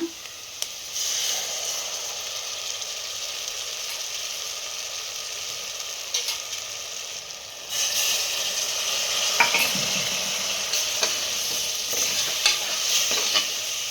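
Potato mixed with gram flour paste sizzles in a pan for aloo sagu, a steady close frying hiss with faint stirring scrapes, growing louder and busier after the mixture goes in.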